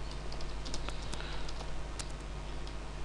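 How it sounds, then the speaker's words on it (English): Computer keyboard typing in quick, light, irregular clicks, close but soft over a faint steady hum. "Okay, let us type it."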